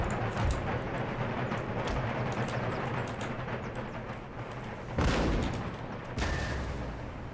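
Mortar artillery fires in the Empire Total War battle amid a constant low rumble of combat, with scattered sharp gunshot cracks and heavier booming blasts near the end.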